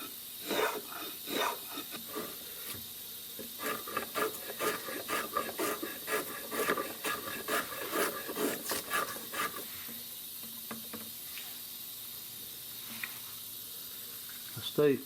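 The wooden stock of a Winchester 1876 rifle is hand-shaved, giving a run of quick rasping strokes for about ten seconds before the scraping thins to a few faint, scattered scrapes.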